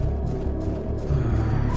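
Low storm rumble from a blizzard in the video game Impact Winter, a steady droning roar that swells slightly toward the end, with no talking over it.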